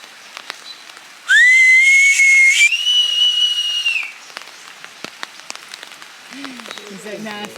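In the Amazon rainforest, a guide blows one long, loud whistle at a sloth, rising and then holding its pitch for nearly three seconds. Light patter and a brief voice come afterward.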